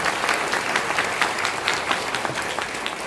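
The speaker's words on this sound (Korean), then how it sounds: "박수 한번 주시겠습니다." A church congregation applauding during a pastor's installation and elders' retirement ceremony, dense sustained clapping from many hands filling the hall at an even level.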